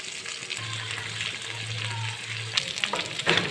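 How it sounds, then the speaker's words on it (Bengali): Chanda fish sizzle steadily in hot soybean oil, a dense continuous frying hiss close by, with a low hum underneath and a few sharper spatters and clinks near the end. "এখানে আমি সবগুলো মাছ দিয়ে দিই ভাজার জন্য"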